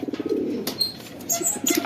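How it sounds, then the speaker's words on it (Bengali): Pigeons on a rooftop loft give soft, close cooing calls, with a few light chirps and faint rustles. "খালি দুইটা কবুতর বাইরে আছে ওদের খাঁচাও খুলে দিছি"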